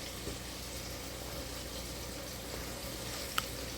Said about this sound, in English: Sizzle and fry. Let it fry.